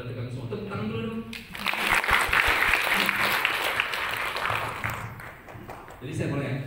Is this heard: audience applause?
yes